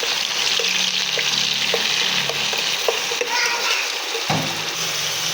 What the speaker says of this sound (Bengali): আর এর মধ্যেই পেস্ট করা পেঁয়াজ দিয়ে দিচ্ছি। নেড়ে চেড়ে লাল করে নেব।